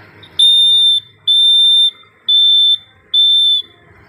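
Four loud, high-pitched electronic beeps in a steady sequence, the first two held slightly longer: Morse code for the letter Q.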